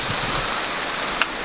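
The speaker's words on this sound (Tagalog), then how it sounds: "So, medyo malakas ng ulan tol." Heavy rain pours down in a steady, dense hiss that stays level from start to finish, close and loud with no voices and a brief sharper tap near the end.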